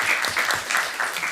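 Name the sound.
applause at a city council meeting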